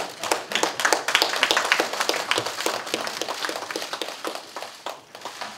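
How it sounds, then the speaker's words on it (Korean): A small room of people at a party leadership meeting claps to welcome newly joining lawmakers, with distinct individual claps forming a moderate, fairly sparse round that softens toward the end. "박수로 환영해 주시기 바랍니다."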